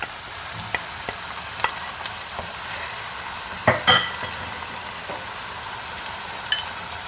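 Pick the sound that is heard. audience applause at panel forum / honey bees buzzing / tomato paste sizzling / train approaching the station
tomato paste sizzling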